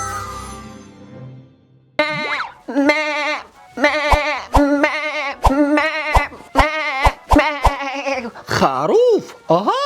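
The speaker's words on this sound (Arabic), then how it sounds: "خروف." A sheep bleats again and again, close and clear, in a quick series of wavering calls mixed with a few sharp clicks.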